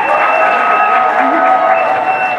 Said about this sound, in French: On applaudit, François Bokona.